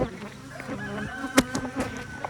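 Honeybees hum close by as a frame is lifted from a hive, a steady droning buzz with a few sharper knocks and scrapes of the frame.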